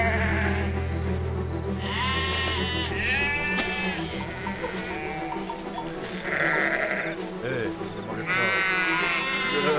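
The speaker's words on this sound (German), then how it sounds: "Oh, Schafe, okay." Sheep bleat repeatedly in the video game Valiant Hearts: The Great War, several wavering calls spread across the scene over a steady low rumble and background music, with a person talking in between.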